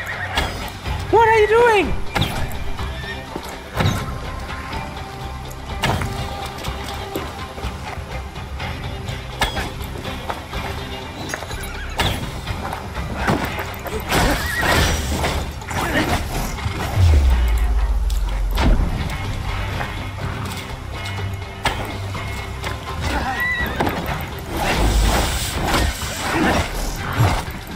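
Horses neigh and hooves clatter amid combat in Assassin's Creed Valhalla, with a few whinnies standing out over ongoing battle noise, thuds and a steady low rumble, while a voice talks over the action.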